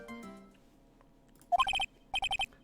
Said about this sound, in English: That phone call just now.